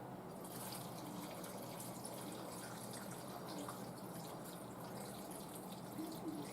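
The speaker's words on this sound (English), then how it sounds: "Now I'm going to add some water." About three cups of water are poured into a crockpot of beef stew, making a faint, continuous gushing fill from start to finish.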